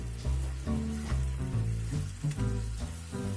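Chicken pieces and Japanese curry blocks fry in a pan while being turned, a steady close sizzle with soft scraping and stirring bumps through the whole moment.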